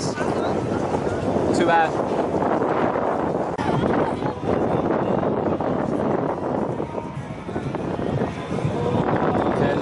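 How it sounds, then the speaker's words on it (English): Strong wind buffets the microphone outdoors in Venice as a steady loud roar and rumble, with brief voices talking over it. "But it's very windy."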